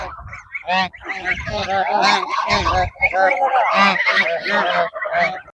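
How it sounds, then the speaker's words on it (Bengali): A flock of domestic geese gathered together in the rain honk loudly and continuously nearby, with overlapping calls filling the whole stretch. "এই যে এখানে কিন্তু অনেকগুলো রাজহাঁস"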